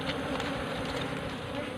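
Asian honey bees (Apis cerana) hum steadily around a hive box, a continuous close buzzing drone with no break and no voices.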